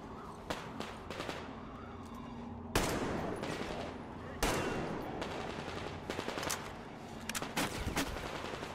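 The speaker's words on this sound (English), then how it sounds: "who's shooting at me?" Gunfire erupts in the shooter Metro Exodus with scattered sharp cracks and rapid bursts. Two especially loud, close blasts stand out amid the ongoing exchange of fire, and faint talk sits in the background.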